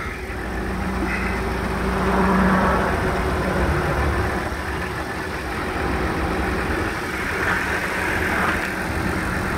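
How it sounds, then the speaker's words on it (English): A turbocharged 2017 Ford Edge engine idles close by, giving a steady, even hum with a low rumble and only small swells in level throughout. "Turbocharged engine."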